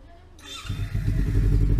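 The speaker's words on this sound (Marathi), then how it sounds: "स्टार्ट करते मी गाडी आता" A motorcycle engine cold-starts, cranking and catching, then settles into a loud, throbbing idle close by.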